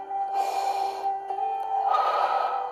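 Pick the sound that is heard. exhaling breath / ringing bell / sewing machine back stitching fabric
exhaling breath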